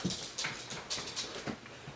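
Two dogs with overgrown toenails move about indoors, their nails producing quick, light clicks and taps in an irregular pattern, soft and nearby.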